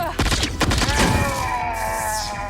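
A gunfire sound effect in a Doctor Who audio drama: a quick volley of shots bursts out at the start, then gives way to a sustained electronic tonal drone.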